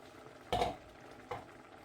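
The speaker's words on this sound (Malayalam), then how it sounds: "ഇത് നന്നായിട്ട് തിളച്ച് നമ്മുടെ വെജിറ്റബിൾസ്, പടവലങ്ങ എല്ലാം കുക്കായിട്ടുണ്ട്." A pot of curry with snake gourd and drumsticks simmers quietly with a faint, steady bubbling, broken by two short stirring scrapes about a second apart.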